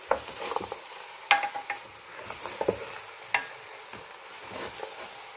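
Pork fat renders into lard in a pan over a lively flame, crackling and sizzling steadily as it is stirred, with scattered sharp pops and scraping stir sounds close by.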